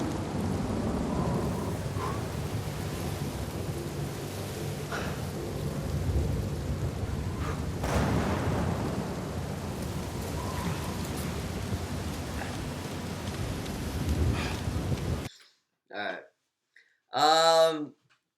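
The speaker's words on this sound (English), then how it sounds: "Here's the rain clip." Steady rain with low rolling thunder in the video game Uncharted 4, a dense continuous wash that cuts off abruptly, followed by brief bursts of speech.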